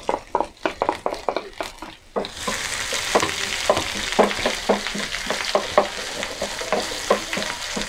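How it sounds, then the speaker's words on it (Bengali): Chopped onion and garlic dropped into hot oil set off a loud, steady sizzle after a couple of seconds of sharp clinks and taps, with rhythmic spatula scrapes and knocks on the pan recurring over the hiss. "তেল গরম হয়ে গেছে, তেল দিয়ে দিলাম। পেঁয়াজ কুচি, রসুন কুচি দিয়ে দিলাম।"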